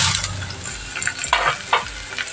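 Onion and coconut for clam thoran are stirred and fried in a pan, with loud close scraping strokes in a quick uneven rhythm over a bubbling sizzle.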